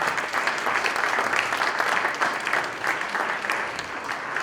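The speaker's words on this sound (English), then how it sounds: "Let's please give them a big round of applause." A large audience applauds steadily at a community event, a dense wash of clapping that holds at an even level from start to finish with no voices rising above it.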